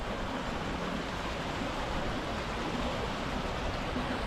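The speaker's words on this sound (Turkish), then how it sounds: "Bu uzun gölü besleyen dere burası. Üzerinde taş köprünün üzerindeyiz." A creek flowing beneath a stone bridge where it feeds Uzungöl lake, a steady, even rush of water heard alone.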